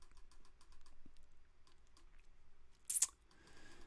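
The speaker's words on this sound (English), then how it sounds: "I'm clicking that as many times as I can" Quick, light clicks tap out in a rapid irregular series as buttons are pressed repeatedly, close and fairly faint, with one louder burst of noise partway through and no talk.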